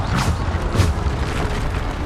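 Bombarda spell explosions in Hogwarts Legacy, a game sound of loud, dense booming bursts, with two heavier low thumps early on over a continuous rumbling roar.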